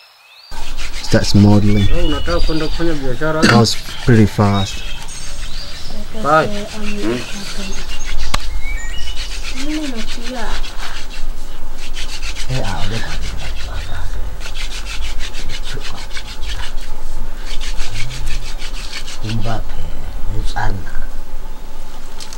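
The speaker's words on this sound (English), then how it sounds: "The Hadza start the fire by rubbing two sticks. The friction causes enough heat that it starts smoldering." Hadza people rub two wooden sticks together to start a fire, a rough rhythmic scraping friction rising and falling, heard close while voices talk over it in the open air.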